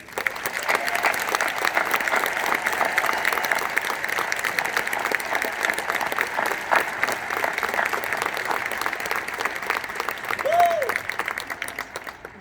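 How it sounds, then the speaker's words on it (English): A commencement crowd at the University of North Carolina at Chapel Hill claps for the graduates, a dense, steady wash of applause that holds for the full stretch, fairly distant and even. "please join me in a round of applause for all our graduates"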